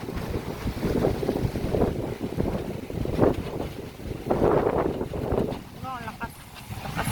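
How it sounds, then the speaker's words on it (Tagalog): Strong gusting wind at South Bay blowing over the microphone near the water, a constant rough roar that rises and falls, with people talking underneath it. "Oh, lakas sa hangin."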